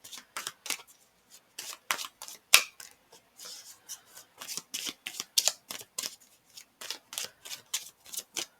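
Tarot cards are shuffled and drawn in quick, crisp riffling bursts, with close papery flicks repeating rhythmically and one sharp snap midway, and no voice over them.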